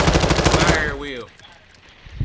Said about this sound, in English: Engage the enemy. Shot fired.